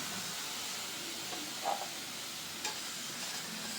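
Paneer butter masala fries in a pan with a steady, close sizzle and hiss, broken by a couple of soft stirring scrapes, with no voices.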